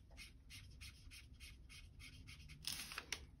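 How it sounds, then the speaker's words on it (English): Rhythmic squeaky scratches of a marker tip drawing a circle on paper in short repeated strokes, close and quiet, ending with a few sharper swipes. "And I like to draw a circle."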